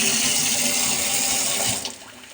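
A kitchen tap pours a steady, rushing stream of water into a sink, close and continuous before easing off near the end.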